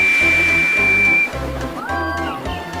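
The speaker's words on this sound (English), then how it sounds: "he blew steam at them" A steady hiss of steam blown from a small steam engine, with a thin whistle-like tone, fades out after about a second, over low music.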